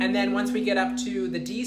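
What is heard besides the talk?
No everyday noises stand out.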